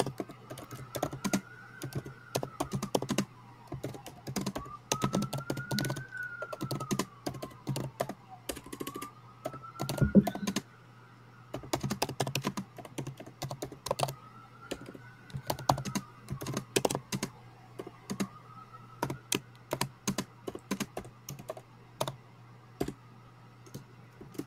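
Someone types notes on a computer keyboard during a data science mock interview, with rapid, irregular clicks and taps in quick bursts and short pauses. The keys sound close over a low steady hum.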